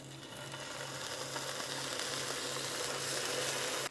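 Pancake batter made from overnight oats cooking in a pan, a faint, steady sizzle with a low hum underneath that cuts off abruptly at the end.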